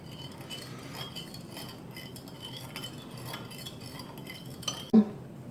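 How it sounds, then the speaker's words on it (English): Citric acid is stirred into liquid in an oven-safe dish with a spoon, making soft, quiet scraping and swirling, then a sharp clink against the dish near the end. "Then we're going to add the citric acid and stir that up real well."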